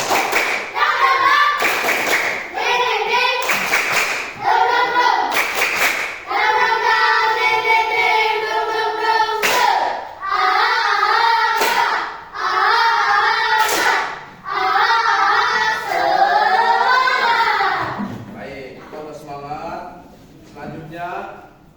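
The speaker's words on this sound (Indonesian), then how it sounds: "Bapak minta satu kali tepuk semangat." Students in a classroom chant together while clapping in the rhythmic 'tepuk semangat' pattern, sharp group claps punctuating the sung phrases at irregular intervals.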